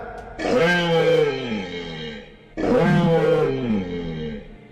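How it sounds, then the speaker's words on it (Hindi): An animated bull in a folk story, raising its horns toward a lion, lets out two long, loud, drawn-out roars separated by a short pause, with no other sounds around them. "सूरज शेर के पास आकर सींग ऊंचे करके दहाड़ने लगा"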